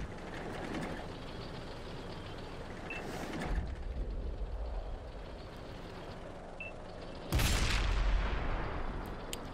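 Two heavy cannon shots from an IS-3 tank in World of Tanks on Xbox 360, each a sudden loud boom with a rumbling tail, set apart by a low idling drone of engine and battlefield ambience.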